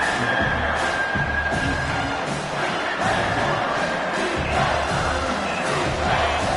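A football stadium crowd roars on third down, a loud continuous wall of cheering and yelling that swells in waves throughout with no clear talk on top.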